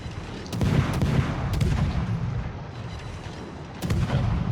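Rapid gunfire from a warship's secondary batteries in a naval battle game, a dense rumbling stream of booming shots with louder bursts near the start and end, no talk.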